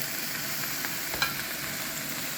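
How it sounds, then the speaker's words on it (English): Chopped red and green peppers fry in a pan with a steady, loud sizzle throughout, broken by a few soft stirring scrapes. "At this stage, I'm gonna add our red pepper and green pepper"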